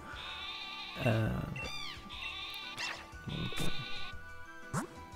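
A sheep Pokémon bleats repeatedly in a Pokémon video game, its synthesized wavering cries sounding over background game music with bright chiming tones, loud and close.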